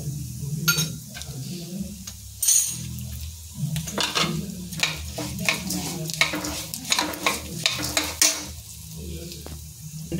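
Mustard seeds crackle and fry in oil for homemade puliyogare powder, with steady sizzling, stirring and a few clinks of a utensil against the pan, and a voice speaking briefly under it.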